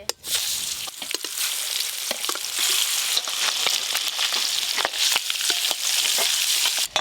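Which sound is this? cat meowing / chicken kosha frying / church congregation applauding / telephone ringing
chicken kosha frying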